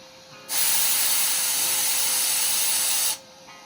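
A cutting torch heating a steel pitman arm for bending: after a faint start, a loud steady roaring hiss of the extra cutting oxygen blast runs for nearly three seconds, then cuts off abruptly.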